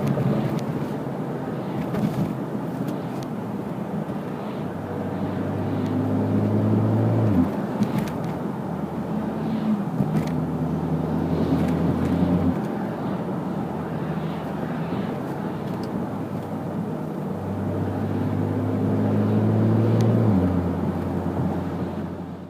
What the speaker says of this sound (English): This is a 3-liter inline 6-cylinder twin power turbo.